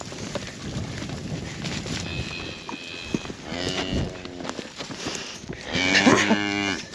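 A cow on a farm moos twice, long, deep and fairly close, over steady outdoor rumble and rustling, with the second call louder and more drawn out.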